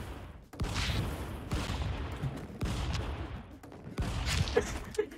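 Repeated shotgun blasts in the stick-figure brawler game Stick Fight, four or five punchy bangs roughly a second apart over a dense, noisy background of game action.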